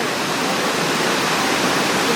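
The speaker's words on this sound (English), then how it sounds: "The water cascades on it good." Mingo Falls, a tall waterfall in North Carolina, pours with a steady dense rushing roar, close and loud, with no voices.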